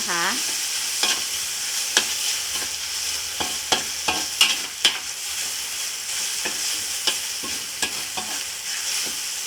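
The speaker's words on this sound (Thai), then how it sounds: "จะผัดหมูค่ะ" Pork stir-fries in oil for pad see ew, a continuous bright sizzle broken by frequent sharp scrapes and clinks of a spatula against the pan, close and loud with no talk.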